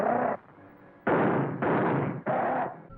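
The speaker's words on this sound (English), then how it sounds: "Actually, bullets. Lots of bullets." Gunfire from an old film scene in The Ape Man, where a gorilla is shot: loud, muffled sustained bursts of shots, three long volleys separated by brief pauses.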